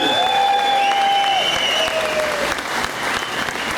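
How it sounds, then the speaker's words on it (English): A crowd claps steadily and loudly in applause for four-time world champion Carl Fogarty at a World Superbikes paddock show at Donington. Whistling tones sound over the clapping near the start. "Ladies and gentlemen, let's hear it then for the 4-time world champion, Carl Fogarty!"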